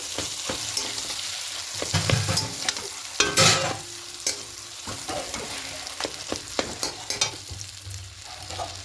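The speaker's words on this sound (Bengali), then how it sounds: "এবার দিয়ে খুব ভালো করে মিশিয়ে নেব সব কিছু।" Chana dal paste filling for dal puri is stirred and fried in a pan. The close sizzle is broken by repeated scraping strokes and a few sharper knocks against the pan.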